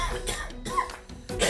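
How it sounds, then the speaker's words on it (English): A person gives a few close, loud, harsh coughs in quick succession, with brief gaps between them and no speech. "A cough is a reflex that humans and many animals have."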